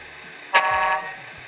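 A single short electronic truck-horn honk, bright and buzzy, comes from the Tamiya MFC-03 sound unit in an RC truck and cuts off after about half a second.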